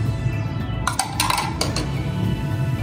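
Spoon clinking against a bowl while salt is stirred into yogurt, a few light metallic taps in the middle of a steady low background noise.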